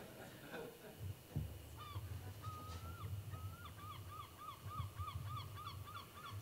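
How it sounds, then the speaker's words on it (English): A series of short, rising bird-like whistles, repeated in quick succession over a low background rumble, moderately loud and close. "You can go on the internet and find bird whistles and such stuff."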